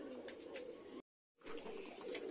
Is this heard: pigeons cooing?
yes